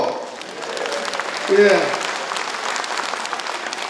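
Audience applause at a political speech in Gyeongbuk, a dense wash of clapping throughout with a brief spoken word from the speaker cutting in partway.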